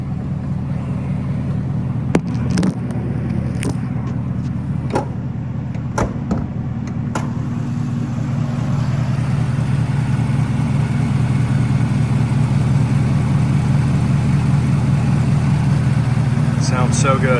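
A 2017 Chevrolet Camaro ZL1 V8 idles with a loud, deep, steady rumble, with a quick rev early on and a few door and handling clicks. Someone talks over the engine.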